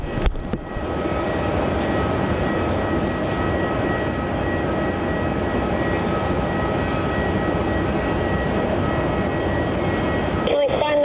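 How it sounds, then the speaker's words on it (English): A Vietnam Airlines Airbus A350 takes off from Melbourne Airport bound for Ho Chi Minh City, its engines a steady, loud broadband roar sustained throughout, with a faint voice briefly heard over it. "Vietnam 350 VN 780 taking off to Ho Chi Minh City"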